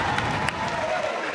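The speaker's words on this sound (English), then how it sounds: "stadium getting a little rowdy for the Atlanta cheer team" A high school basketball stadium crowd roaring and applauding for the Atlanta cheer team, a dense steady wash of cheering and clapping with a few sharper claps standing out.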